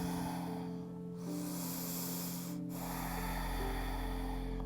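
Breathing held during a yoga pose, airy inhales and exhales rushing close to the microphone over a steady background hum, with a brief pause midway.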